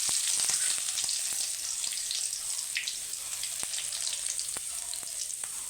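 Bay leaf and crushed garlic sizzle steadily in hot oil, a close, continuous crackling fry with scattered pops and a faint watery hiss throughout, no voices.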